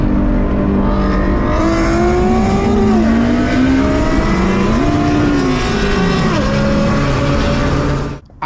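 Two cars, a Honda Civic Type R FK8 and a Dodge Challenger Hellcat, race on a freeway at night with a K20-swapped AWD wagon that has a damaged transmission, engines roaring loud and close with rising revs and gear shifts throughout.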